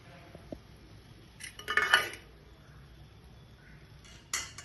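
Goat blood fry being stirred with coriander leaves in a pan, Coimbatore style: a brief burst of utensil scraping and clinking against the pan midway, then a short clatter near the end, otherwise quiet.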